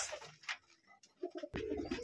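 Bengali Giribaz pigeons on a rooftop farm coo in short, soft bursts at close range, mixed with faint rustling and a few sharper flaps.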